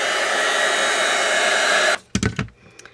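A heat tool blows a steady, loud, hissing roar for about two seconds while melting copper embossing powder on a stamped card, then shuts off, followed by a few brief handling knocks.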